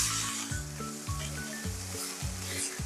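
Carrots stew and sizzle in a pan with frying onions, giving a constant close hiss and crackle with soft rhythmic pulses underneath, and no talk.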